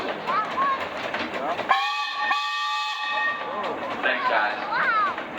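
A steam traction engine owned by the Staleys of DeKalb, Illinois, sounds its whistle once in a sustained, loud, tonal blast during a steam show parade, with crowd voices and talk around it.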